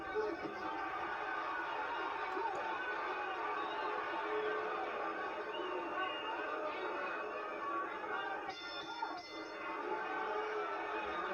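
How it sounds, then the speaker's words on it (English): A boxing crowd fills a packed arena with a steady roar of murmuring and chatter that holds at a loud, even level throughout, while a commentator talks over it. "crowd reacting as you might expect they would"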